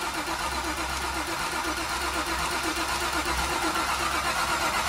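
A twin-turbo Ford Coyote V8 swapped into a car catches and fires up, running as a steady, loud, rumbling idle through the whole stretch.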